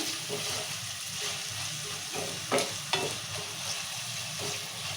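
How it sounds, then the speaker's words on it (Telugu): Upma tempering with peanuts, tomatoes, chillies and salt is stirred in a pan over a steady sizzle. A couple of sharper scraping strokes stand out, close and fairly quiet. "ఒకసారి మంచిగా ఉప్పు అన్నిటికి పట్టేటట్లు కలుపుకుందాము"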